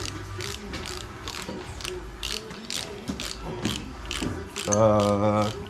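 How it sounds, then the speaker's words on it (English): A 3/8-inch hand ratchet clicks in a steady run of sharp pawl ticks while snugging the cam caps on a 25-year-old VR6 engine, with a louder mechanical whir near the end. "hand tight with a 3/8 ratchet"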